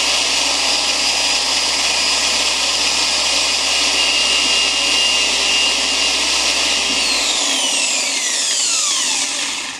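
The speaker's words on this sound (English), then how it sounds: "At this point you want to crank your machine up to one of the higher speed settings, either 5 or 6." A polishing machine spins at high speed inside a Grit Guard universal pad washer, giving a loud, steady whirring hum that runs alone throughout, then the motor winds down and the pitch sweeps away near the end.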